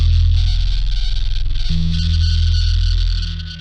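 Heavily distorted guitar or synth through a distortion pedal, other effects off, playing a thick sustained ambient drone with a steady pulsing low end and a chord change partway through, fading toward the end.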